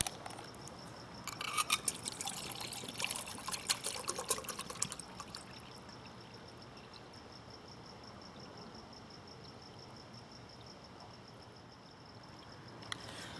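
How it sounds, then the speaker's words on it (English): Water pours steadily into a cup up to the 16-ounce mark, a faint trickling splash for the first few seconds before easing into a quiet, continuous hiss beside a camping stove. "let's start this off by getting our cup filled here to 16 ounces"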